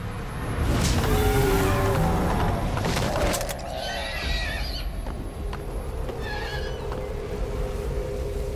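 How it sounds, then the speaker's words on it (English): A horse in the Metal Gear Solid 5 video game lets out a loud, drawn-out whinny up close, followed by fainter snorts and shorter neighs over a low game-ambience rumble. "It's his horse again."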